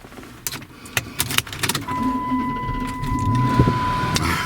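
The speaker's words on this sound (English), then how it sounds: "you hear that big Hemi fire to life" A Chrysler 300 SRT8 with a Hemi V8 turns over after clicks and cabin noises, settling into a steady idle rumble heard from inside the car.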